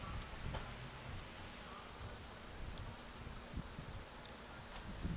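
Heavy rain pours during a Bangalore to Murudeshwar express train journey, a dense steady hiss of drops drumming on surfaces with scattered sharper splats, fairly faint and continuous.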